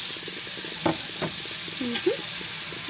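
Chicken thighs frying in a pan for chicken estopado give a steady low sizzle, with a few stirring scrapes and a voice speaking briefly over it.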